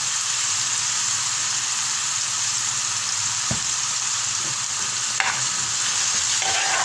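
Onions sizzle steadily in a hot pan with a little salt, a spoon stirring through them now and then and one sharp scrape partway; the frying hiss stays constant and fairly loud, with no voices.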